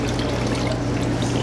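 Water pours steadily over yeast in a bowl for pizza dough, a continuous close splashing trickle with no pauses.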